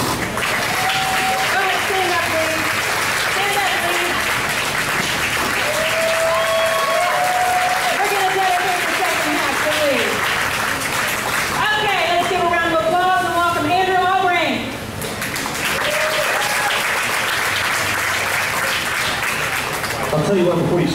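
A school singing contest audience applauds, steady dense clapping from a crowd that fills the whole stretch, with voices and cheers sounding through and a brief dip before the clapping swells again.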